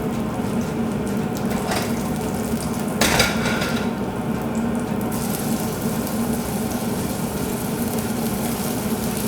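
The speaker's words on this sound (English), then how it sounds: "So I'm going to pop the shrimp in." Shrimp go into a hot pan for Spanish garlic butter shrimp pasta. A steady broadband sizzle follows, with a few metallic clinks of pan and utensil near the start, and no one speaks.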